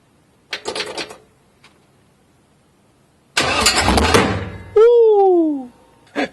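A 6.0L LS2 V8 in a Trans Am build, running on open headers, cranks with a short burst, then fires into a loud, rough, close roar for about a second and a half before a voice cuts in.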